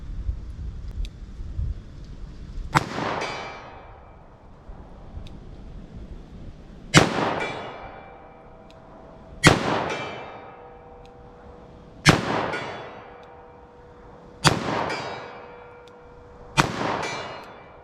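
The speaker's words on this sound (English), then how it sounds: "Just slow fire, 75 yards, 38 special." Six slow, evenly spaced shots from a .38 Special revolver, a 686, fired at a 75-yard range: loud sharp cracks, each followed by a ringing echo that decays over a couple of seconds, with quiet gaps between.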